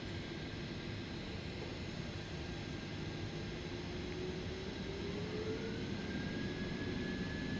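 Jet engines spool up to takeoff thrust in Microsoft Flight Simulator on a departure from Dublin, a steady, muffled roar with a rising whine that climbs slowly in pitch.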